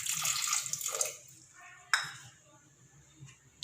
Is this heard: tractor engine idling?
no